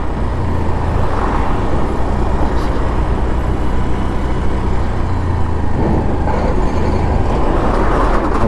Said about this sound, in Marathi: समोरून गाड्या सुद्धा खूप आहेत